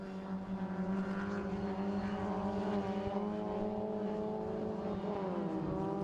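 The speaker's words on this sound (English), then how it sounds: "The car's now making the climb up the hill" A Mini rallycross race car climbs a hill during a British rallycross championship race, its engine droning loud and steady with sustained harmonic whine, pitch dipping slightly near the end, no talk over it.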